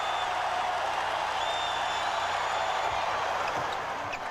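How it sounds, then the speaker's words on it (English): A basketball arena crowd at a 1995 NBA playoff game between the Bulls and the Magic turns on Michael Jordan. The crowd keeps up a steady, distant roar that fills the whole stretch. "The crowd starting to really get on him now."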